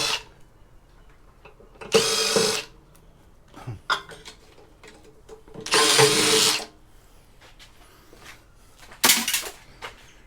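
A power drill backs screws out of a scrapped variable speed drive in three short whirring bursts, with light clinks of metal parts between them.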